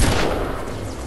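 Pistol gunfire in the video game Fortnite, a dense, loud burst of shots crowded into a single second with no gaps.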